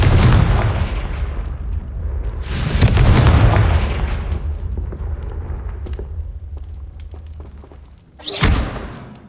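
Confringo fire spell blasts in the Hogwarts Legacy video game: a heavy booming explosion up front, a second rolling blast a few seconds later, then a sharp closing burst, loud with no talking.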